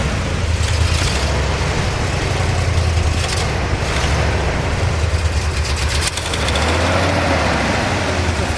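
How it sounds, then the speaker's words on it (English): A 1971 Corvette with a numbers-matching 454 big block, 365 horsepower and Hooker side pipes idles loud and close, a steady low rumble with a ticking exhaust leak from the back right bank. "Hear a little bit of an exhaust leak coming off that back right bank"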